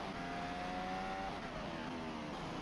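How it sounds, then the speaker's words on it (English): Onboard a Ferrari Formula 1 car during 2024 United States Grand Prix qualifying, a dense, steady engine roar fills the whole stretch at constant loudness with no talking. "You can see the car just get too hard in the throttle, overcorrects it, and then just can't slow the car down. And into the barrier he goes."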